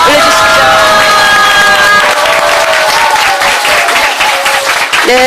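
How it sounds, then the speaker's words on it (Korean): An audience at a lecture applauds and cheers to thank a poet, a loud, dense wash of clapping and crowd noise with a few voices, while a bright melodic tone runs over it at the start. "오늘의 섭리 말씀을 주신 시인께 다시 한번 감사의 박수"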